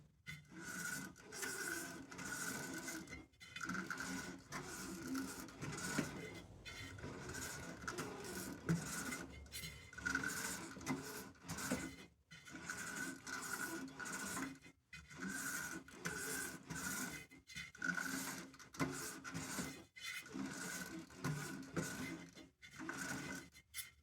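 A Shopsmith power tool retapping threads in Stanley 80 thumbscrews, with a steady rhythmic metallic rasping and scraping, repeated in regular strokes with brief pauses, close and moderately loud with no talking.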